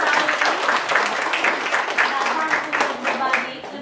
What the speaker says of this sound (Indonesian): Tepuk tangan juga untuk kedua narasumber kita,